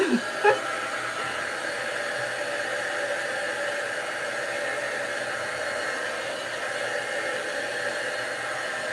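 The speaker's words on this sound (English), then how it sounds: "I'm going to dry it a little bit" A hair dryer blows steadily on a burn barrel snowman craft, a continuous close whooshing roar lasting several seconds after a couple of brief knocks at the start, with no talking.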